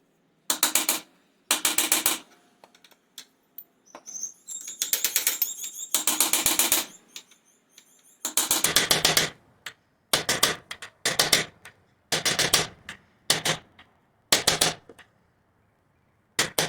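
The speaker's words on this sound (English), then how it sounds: "once I hammer this on," A series of sharp metallic hammer blows in bursts, loud and close, with short pauses between groups of strikes, as a shifter is hammered onto a Kawasaki ZX10R motorcycle's spline.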